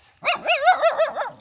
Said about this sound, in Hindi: वो भौंक रहा, भौंक भौंक